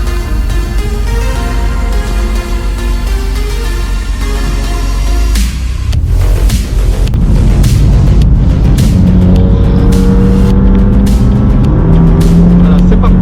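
A BMW M2 CS drives laps of the Nevers Magny-Cours circuit at a BMW M Club track day, its engine droning loudly throughout and building to a stronger roar, with people talking inside the cabin.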